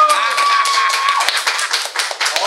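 A studio audience on a Puerto Rican comedy show claps in welcome for an actor guest, a steady close burst of hand claps with a faint tone in the first half.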